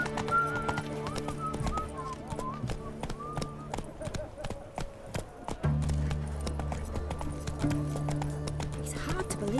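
Roach the horse trotting along in The Witcher 3, steady hoof clip-clops ringing close and clear over low ambient game music and a faint bird call.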